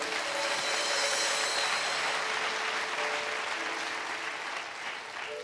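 Church congregation at a French-language sermon applauding and cheering, a dense, loud wash of clapping with crowd noise that holds steady and eases slightly at the end.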